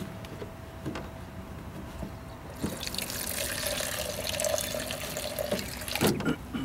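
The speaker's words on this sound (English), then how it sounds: "I'm going to start by taking some of this water" Water being collected as a sample from a storm drain filter setting, starting as quiet trickling and dripping, then becoming a louder steady splashing pour for several seconds, with a few clinks near the end.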